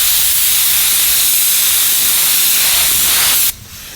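A spray gun hisses loudly and continuously as paint is laid over a damaged area of a car, a close, steady blast that cuts off abruptly near the end.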